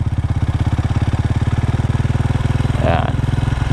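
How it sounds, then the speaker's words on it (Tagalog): Motorcycle engine with a 28 mm flat-slide carburetor running steadily at about 2000 RPM while its air screw is adjusted, a loud, close, even pulsing throb with a brief rattle near the end. "Ngayon magluluwag tayo ng air screw hanggang makuha natin yung pinakamagandang performance ng engine."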